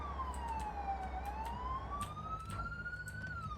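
Ambulance siren in the Police Simulator: Patrol Duty video game, a continuous wailing tone sweeping slowly down then up, fairly close and clear over low engine rumble.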